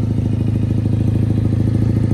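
A 2012 Honda Rebel 150cc liquid-cooled two-cylinder motorcycle engine runs at a steady idle with an even, throbbing pulse, loud and close.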